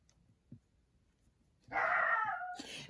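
A dog barks and yips with a tonal, whining quality, close and fairly loud, after a quiet stretch with a single faint thump.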